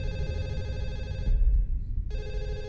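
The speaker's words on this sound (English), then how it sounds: "Oh, I hear a phone." A ringing phone in the horror video game Hide & Seek, its loud electronic tone running, cutting out for about a second under a low thump, then starting again over dull background noise.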